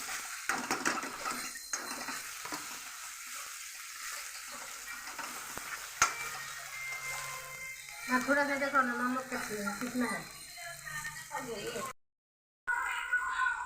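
Banana flower pieces hit hot oil with a sizzle and crackle, then are stirred with scraping utensil sounds while a person talks; the audio briefly cuts out near the end.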